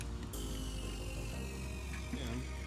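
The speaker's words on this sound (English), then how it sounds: "Now you can remove that wrench and use your stubby wrench to take it off" A stubby ratcheting wrench works a starter bolt on a BMW M3, giving quiet, close, rapid clicking from the pawl with light metallic handling noise under a steady background hum.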